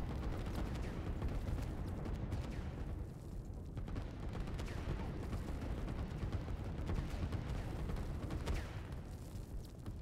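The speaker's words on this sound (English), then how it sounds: "There's enough artillery here." Continuous artillery and gunfire in the strategy game Line War, a dense, loud barrage of overlapping blasts and rumbling booms running steadily throughout with no speech.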